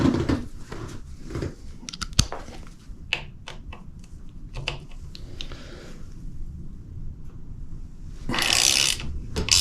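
Wrench working loose the three motor mounting bolts on a Specialized Kenevo SL e-bike, giving a run of sharp close metallic clicks and ratcheting ticks in irregular bursts, with a louder scraping rattle near the end.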